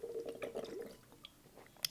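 A person drinks water from a half-gallon jug: close gulping and liquid sloshing for the first second, then softer drips and small squishy sounds with a sharp click near the end.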